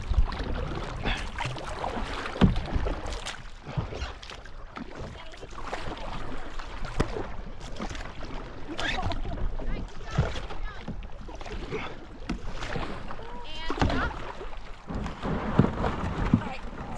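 Hard kayak paddling on open water on an Appalachian Trail kayak outing, with splashing and strokes churning under steady wind noise while people talk close by.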